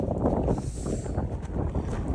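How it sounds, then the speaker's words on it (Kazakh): Strong outdoor wind buffets the microphone in a steady, loud, low roar with gusty fluctuations throughout, on a walk home from a barbershop in early March with snow on the ground. "Жел бізге қатты соғып тұр"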